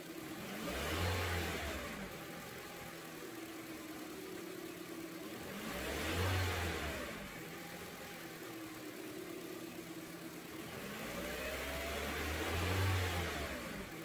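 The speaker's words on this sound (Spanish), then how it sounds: "Lo siguiente que vamos a hacer es acelerar el vehículo" A 2002 Honda Civic LX engine idles steadily and is revved three times at even intervals, each rev rising to a swelling roar before dropping back to a smooth idle, close and alone without voices.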